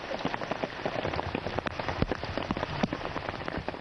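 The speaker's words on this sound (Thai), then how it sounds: "แม้สายฝนจะยังโปรยปลายต่อเนื่องตลอดเดือนตุลาคม" Steady rain falls in Doi Inthanon National Park, a dense patter of drops striking nearby surfaces with scattered louder splats, continuous and close throughout, with no voices.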